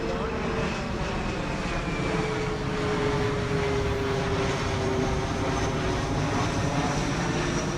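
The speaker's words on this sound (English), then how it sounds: "After this plane goes by" An airplane flies overhead outdoors, producing a steady, broad engine drone that holds at an even, fairly loud level throughout with no pauses.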